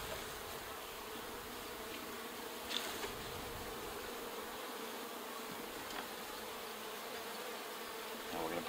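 A dense, steady hum of many honey bees fills the air around an open beehive, a continuous swarm-like drone at moderate distance with no voices.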